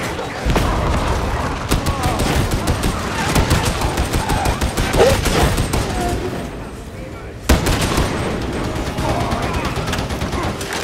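Rapid gunfire from Warhammer 40,000: Darktide, continuous bursts of shots and booms stacking up over several seconds, with a heavy blast partway through and players talking over the combat.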